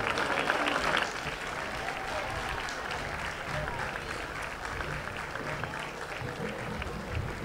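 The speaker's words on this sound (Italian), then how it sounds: "L'applauso è tutto per loro." An outdoor crowd at a summer tourist festival in Aglientu applauds a young folk dance group of six couples with loud, dense, steady clapping that holds for several seconds.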